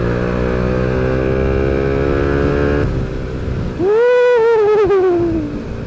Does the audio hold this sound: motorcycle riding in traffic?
yes